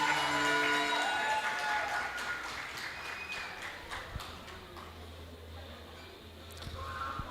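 Congregation applause during a church cell-group service, with dense clapping that starts loud and thins out gradually over several seconds, while a faint musical tone lingers under it.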